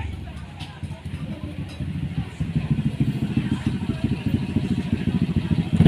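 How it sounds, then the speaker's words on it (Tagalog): A motorcycle speeds by outdoors at night, its pulsing engine growing louder and closer over the final seconds while people talk over it. "bilis ng motor"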